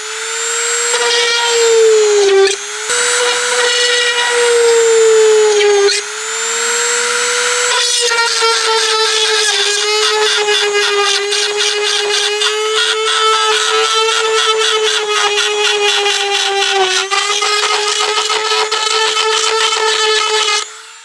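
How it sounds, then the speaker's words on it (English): A power drill whines steadily while boring out the small clip inserts on a car's rear valance, a GT500-style part with diffuser, its pitch dipping briefly under load a few times across a long continuous run. "So I'm currently drilling the little inserts out where you put the clips for the valance."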